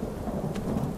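Steady hiss of heavy rain with a rumbling roll of thunder during a thunderstorm in the video game Skyrim VR, a dense wash of sound throughout.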